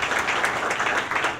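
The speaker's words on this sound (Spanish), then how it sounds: "yo creo que se merece un aplauso" Applause from an audience at a project management panel discussion, a steady dense wash of many hands clapping throughout, moderately loud and continuous.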